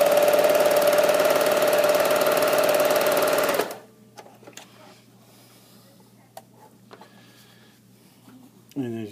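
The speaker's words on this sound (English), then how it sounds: "And as you can see, that's the sewing." A Pfaff Classic Style sewing machine runs steadily for about three and a half seconds with a loud, even mechanical whir, then stops, leaving only quiet clicks and handling noises.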